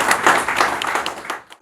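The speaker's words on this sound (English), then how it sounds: "Please, a warm round of applause for Jon Hagen." Brief round of applause from a modest audience greeting a speaker, distinct individual claps audible in a quick patter that fades out and trails off near the end.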